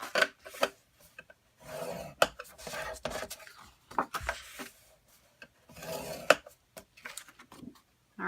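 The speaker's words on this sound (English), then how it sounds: "we're just going to score it at 2 inches all the way around" Scoring an 8x8 inch sheet of early espresso cardstock at 2 inches on each side for an explosion box base gives short, quiet rasping strokes in intermittent bursts, separated by silent gaps, with no talking.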